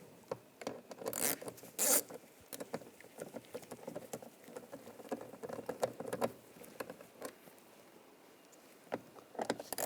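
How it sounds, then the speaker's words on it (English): Socket wrench with a 7mm socket backing screws out of a 2014-2018 GMC Sierra front door panel, quiet close ratcheting clicks and soft scraping in short bursts, with a couple of sharper rattles early on. "There's two screws under here. Use the 7mm socket, take those out."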